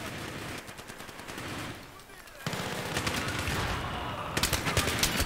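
Automatic SMG fire in Battlefield 3, a rapid rattling stream of shots that drops briefly and then resumes louder near the end, with game background noise under it.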